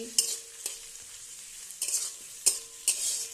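Chopped onion, tomato, green chili and garlic frying in a pan, a low sizzle broken by several sharp scraping stirs of a spatula at irregular intervals.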